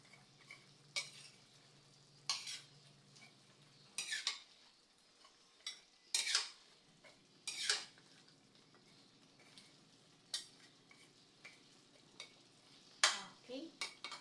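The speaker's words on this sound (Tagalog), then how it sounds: "Tapos, haluin natin para po mailalim yung ibang sitaw at umibabaw yung karne." Pork and string beans (sitaw) are stirred in a cooking pot, with scattered scraping and clinking of a utensil against the pot in separate bursts over a quiet simmering background, close and fairly soft.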